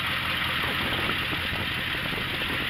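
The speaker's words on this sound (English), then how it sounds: "It's idling pretty smooth in drive." A Ford Ranchero engine idles steadily in drive at close range, a smooth continuous rumble with a broad hiss on top, with no talking.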